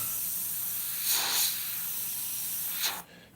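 An airbrush sprays Createx acrylic paint onto a stretched canvas in short, sharp hissing bursts: two quick puffs close together, then a pause before one more brief spray, close and fairly loud.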